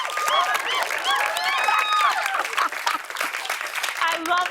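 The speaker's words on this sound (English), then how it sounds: "let's just take a round of applause for Magic Mike" A studio audience on a television talk show applauds loudly, with whoops and cheering voices rising over continuous clapping throughout.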